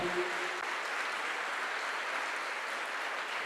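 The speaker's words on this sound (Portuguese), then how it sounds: "dê um aplauso forte ao Senhor" Church congregation applauding the Lord during a Pentecostal-style service, a dense steady wash of clapping held at even loudness throughout, with a brief trace of a voice at the very start.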